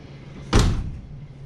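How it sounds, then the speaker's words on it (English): Door of a Plymouth Barracuda with newly installed trim swinging shut in a single solid, close thump followed by a short fading rattle. "So let's see how our door closes and looks."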